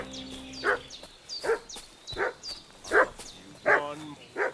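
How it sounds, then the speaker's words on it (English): Repeated dog barks from a video game, Kingdom Come: Deliverance II, sounding about six times at a steady, insistent pace, moderately close, with no talk over them. "What's that dog making such a fuss about?"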